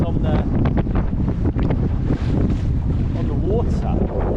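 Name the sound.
strong wind gust at sea on a boat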